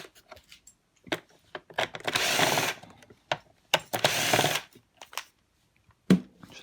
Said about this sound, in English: So if I remove these screws here